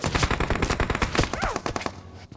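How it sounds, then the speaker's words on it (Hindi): Rapid bursts of automatic gunfire in the BGMI battle royale mobile game, loud and close, with dense overlapping shots and a brief pause near the end. "यहाँ सामने से भी पड़ रही थी ट्रिपल स्टोरी के पीछे से मिस फायर बंदे दे रहे थे"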